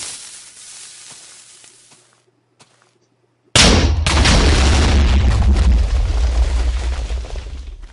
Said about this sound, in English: So you can see all the TNT detonated